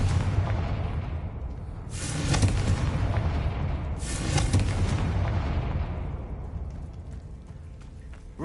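Confringo blasting-spell explosions in the Hogwarts Legacy video game: two heavy booming blasts a couple of seconds apart, each with a sharp burst and rumbling decay, loud and close, fading afterward.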